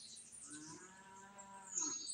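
A cow moos in a long, drawn-out low call near a turkey hunter's position outdoors, a steady bellow lasting a couple of seconds with no talk over it.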